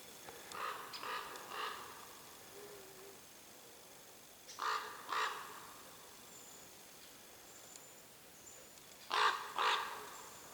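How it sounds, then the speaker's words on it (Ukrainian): A raven calls in flight over an elk-inhabited island, its hoarse croaks coming in three separate bursts of two or three, fairly distant and faint against a quiet outdoor background. "крук летить"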